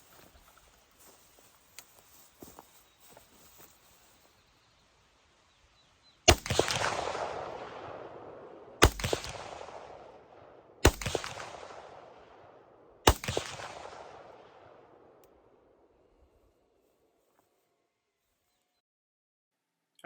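Four rifle shots fired over a pond ring out at intervals of roughly two to three seconds, each a sharp crack followed by a long decaying echo, with faint rustling before them.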